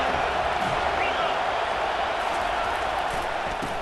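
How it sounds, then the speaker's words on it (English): A football stadium crowd roars steadily behind the defense on a third down, a dense, sustained wall of cheering noise that stays loud and unbroken with faint talk mixed beneath it. "Decibels rising as the crowd gets behind this defense on third down"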